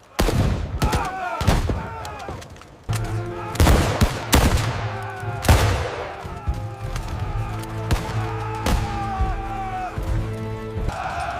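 Musket volleys from colonial Americans firing back near 1700s Boston, a dense run of sharp cracks and booming reports, some overlapping in ragged bursts and others standing alone, loud and close, with a low rumble and faint voices underneath.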